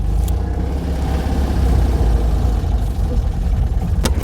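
A classic vehicle's engine idles steadily just after starting, a loud, close, even low rumble with a couple of brief sharp ticks over it.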